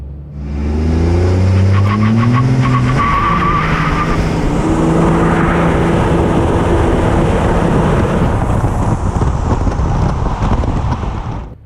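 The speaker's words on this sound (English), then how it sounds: "We're going to simulate it as if you're on the track, and we're going to launch it." A truck launches hard on a test jig with its rear tires skidding, producing a loud, sustained squeal over a revving engine that climbs in pitch and then holds steady for several seconds, close by.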